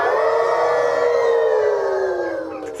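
Children imitate a wolf howl in a long, sustained voiced wail that slowly falls in pitch, loud and close, ending with a brief noisy burst.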